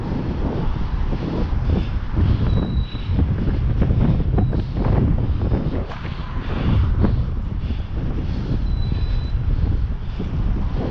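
Strong wind buffets the microphone during a ride against a headwind, a loud, continuous roaring rumble with gusty surges that stays steady throughout, with no voices heard.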